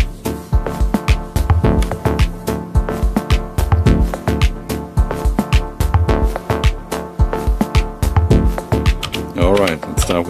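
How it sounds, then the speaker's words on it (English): A dub techno pattern on an Elektron Syntakt drum machine rolls along with a steady pulsing kick and echoing chord stabs, loud and continuous, and a swirling filtered sweep near the end. "Let's break down this Dub Techno pattern on the Elektron Syntakt called HAZED."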